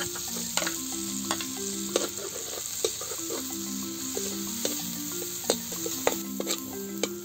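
Garlic and ginger sizzle steadily in hot Star margarine, the frying joined by repeated scraping strokes of a spoon against the pan at an uneven rhythm, close and fairly loud with no talk.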